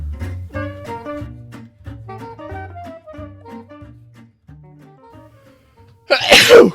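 A single sharp human sneeze bursts out loudly at the end, following a short stretch of plucked, tuneful game music.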